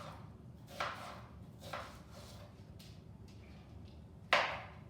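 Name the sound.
knife slicing an onion into half rings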